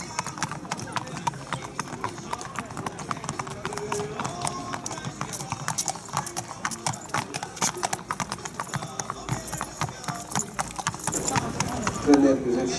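Horses galloping in a horse race, heard as a rapid, dense drumming of hoofbeats that continues steadily and swells slightly near the end, with a race commentator talking over it.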